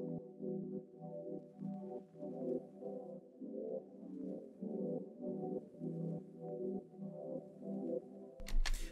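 A wet, heavily filtered synth pad from Omnisphere drones with soft, muffled sustained chords that swell and ebb gently. It stays quiet and low with no voices, and a brief brighter burst comes at the very end.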